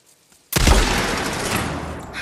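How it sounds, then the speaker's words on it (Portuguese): A single loud gunshot in the video game Days Gone, fired at a lock, bursts in after a short quiet and leaves a long, booming echo that decays slowly. "Posso atirar na trava."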